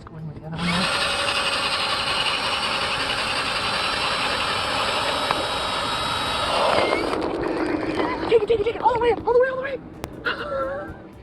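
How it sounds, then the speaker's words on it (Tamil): A drilling machine whines steadily at close range for several seconds, then its pitch drops and the sound breaks up into uneven, wavering bursts as the load changes. "ட்ரில்லிங் மெஷினை வச்சு இங்க என்ன பண்ணிருக்காங்கன்னு பாருங்க"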